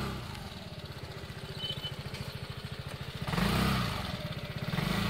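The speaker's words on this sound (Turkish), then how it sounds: "Motor tabii scooter olduğu için biraz zorlayacak orayı." Yamaha Xmax 250 scooter engine laboring up an off-road obstacle, a rapid pulsing throb that surges louder near the end as the throttle opens, close and unaccompanied by talk.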